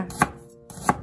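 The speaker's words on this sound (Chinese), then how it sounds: "切一小块姜，先切片" A kitchen knife slices a small piece of ginger on a cutting board, giving two crisp, separate chops about two-thirds of a second apart, quiet and close, with no talking.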